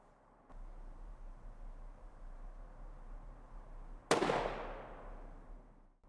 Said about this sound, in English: Let's see how two more shots will do.